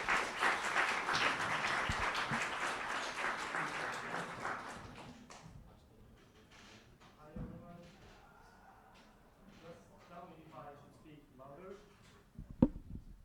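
A conference audience at a lightning-talk session claps for a speaker, with dense applause for about five seconds that fades out, then someone speaks over light room noise and a sharp knock near the end.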